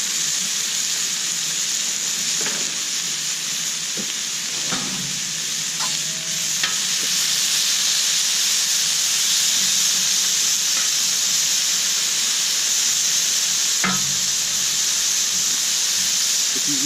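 Beef and bacon hitting a hot pan for Chinese-style fried rice, a loud close sizzle that swells as the meat goes in, with scraping and stirring clatter throughout and no talk.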